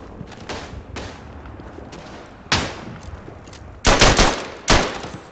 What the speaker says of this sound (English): I love the machine guns.